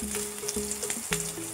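Sliced onion and long strips of carrot fry in oil over a medium flame, giving a steady, moderate sizzle throughout with faint crackles and a low hum underneath.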